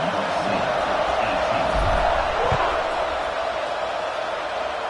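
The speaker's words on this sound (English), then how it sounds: "this crowd is buzzing after that last score" A stadium crowd at a USC football game buzzes after a score, a dense, loud, continuous roar of many voices filling the space with scattered cheers and whoops throughout.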